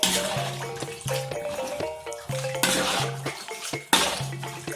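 A spoon scrapes and clinks repeatedly against a pot as spices are stirred while cooking Minangkabau pangek, with rhythmic metallic knocks and scraping close by and no talk.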